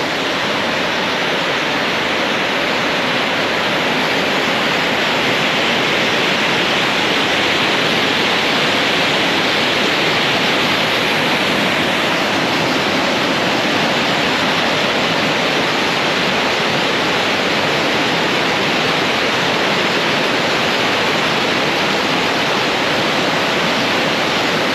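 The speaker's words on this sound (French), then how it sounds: "Elle a un débit de 1800 litres par seconde et toutes les demi-heures, ce débit s'arrête." An intermittent spring fountain at Montségur gushes at full flow, a dense, loud and unbroken rushing of water heard close and alone.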